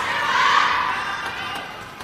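A crowd of fans cheers at a China versus Japan women's team table tennis final, a broad roar that swells early and then slowly fades.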